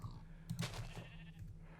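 Sheep bleating in the Minecraft video game, a couple of short synthetic bleats near the middle over a quiet steady background hum, with pigs also present in the scene.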